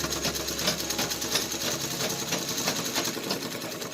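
A village tailor's sewing machine stitches a pair of pants, a steady fast mechanical whir and chatter running continuously and close by with no pauses.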